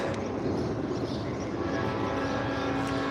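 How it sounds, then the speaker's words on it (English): A steady, loud rumble of a southbound train rolling past, continuous low roar with rail noise and no pauses throughout. "Oh, we got a train headed southbound."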